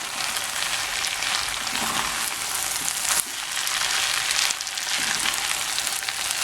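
Arroz Valenciana sizzles and fries in a hot pan as it is stirred, a loud, dense, continuous crackle with a couple of brief scraping dips from the spoon, no voices present.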